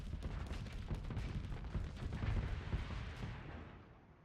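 Ship weapons and fast missile launchers fire in Starsector space combat, a dense, continuous barrage of overlapping blasts and booms that stays loud, then thins out near the end.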